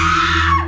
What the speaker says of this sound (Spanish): Grité con todas mis fuerzas